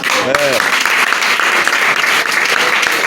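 A church congregation claps and cheers in praise of the Lord, a dense continuous burst of applause with crowd noise, loud and close, after a brief sung or called-out voice at the start.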